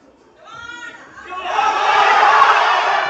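A powerlifting championship crowd cheers on a men's 83 kg lifter's heavy squat attempt, a few rising shouts swelling into loud sustained roaring and yelling.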